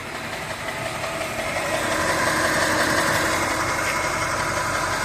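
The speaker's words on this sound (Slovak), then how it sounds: "A z tejto strany je počuť ten klepujúci zvuk." An Audi SQ7 engine running at idle with an uneven, rough note and a faint repetitive knocking tick under a steady mechanical drone, heard close up with no talking.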